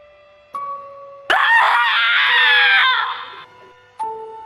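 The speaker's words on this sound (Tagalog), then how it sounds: "bigla na lang may malalim at malakas na sigaw galing kay Nani" A single deep, loud, drawn-out scream in an animated Tagalog horror story, lasting about two seconds, framed by brief soft tones before and after.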